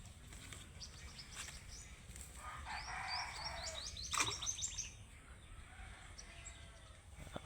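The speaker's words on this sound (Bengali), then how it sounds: "আপনারা দেখতে পাচ্ছেন পাখির ডাক।" Small birds chirp and tweet in quick bursts on a village morning, moderately near over low ambient background noise, with a louder flurry in the middle and no talking.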